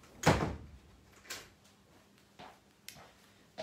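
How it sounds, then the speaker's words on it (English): A glass sliding door is pushed shut with one firm thud, followed by a few softer knocks and rattles of the door settling, close by and with no talk. "I've just got to shut this door to keep the dog out"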